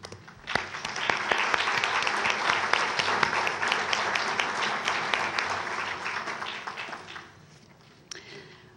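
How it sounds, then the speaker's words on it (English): An indoor audience at a League of Women Voters candidate forum breaks into sustained, dense applause that holds steady for several seconds, then tapers off to scattered claps. "let's give them a round of applause and appreciation"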